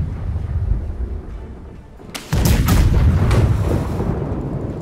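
Ship cannons firing aboard a vessel in the naval game Blackwake, a sudden loud boom at about two seconds followed by rumbling, overlapping blasts amid a steady windy background.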